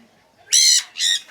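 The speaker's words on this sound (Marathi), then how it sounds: "नुसता पक्ष्यांचा किलबिलाट आहे इथे" Two harsh, loud bird squawks close by, one right after the other, over a quiet background, at a bird garden in Nashik.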